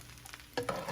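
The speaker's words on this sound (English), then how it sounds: "You let it simmer." Ground beef sauce simmering and being stirred in a pan, a soft background hiss that jumps into louder bubbling sizzle and stirring scrapes in the second half, close by with no talking.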